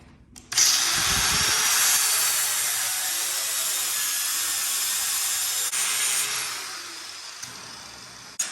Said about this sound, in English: let's get the grinder and let's remove the paint